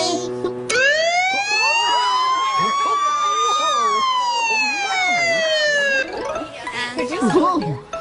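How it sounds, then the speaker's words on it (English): A fire engine siren is switched on and wails loudly up and then down in a long sweeping tone that fills the whole stretch, with a voice and other noise chiming in near the end. "And here is where you turn on the siren."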